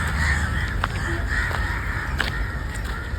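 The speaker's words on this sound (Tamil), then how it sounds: "காக்கா ஏகப்பட்ட காக்கா." Crows caw outdoors, several sharp calls scattered over a steady background hum, moderately near and clear, with no talk.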